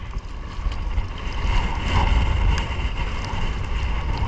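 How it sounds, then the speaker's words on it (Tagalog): Strong northeast monsoon wind roars steadily across the microphone on a fishing boat off an island, with rumbling gusts and sea water sloshing underneath, loud and continuous throughout. "Lakas ng amihan dito sa isla."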